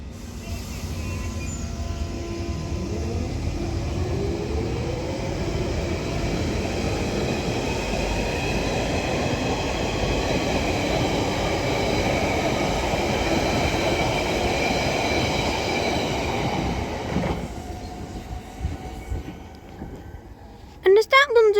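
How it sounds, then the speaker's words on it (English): A London Underground Central Line 1992 stock train departs South Ruislip, a loud sustained rumble of wheels and motors with rising whine that gradually fades, followed by a brief sharp squeal at the end. "Now departing is going to be another London Underground Central Line 1992 stock heading off to West Ruislip now from Epping"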